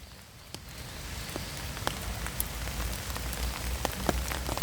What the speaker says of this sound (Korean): 비 맞는다